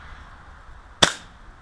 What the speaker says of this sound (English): So we're gonna shoot this gun.